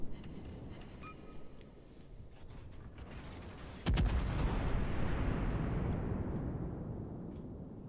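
Naval guns of a Cleveland cruiser fire in World of Warships: one sudden loud blast partway through rolls into a sustained, rumbling roar over a quieter low background. No one speaks.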